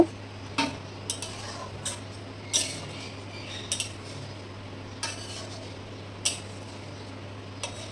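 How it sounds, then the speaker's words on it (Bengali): A spoon repeatedly clinks and scrapes against the pot while chickpea and potato curry is stirred after hot water goes in, over a constant low hum and a soft simmer, with no speech. "সেটাই আমি দিয়ে দিলাম, দিয়ে ভালোভাবে একটু নেড়ে নেব।"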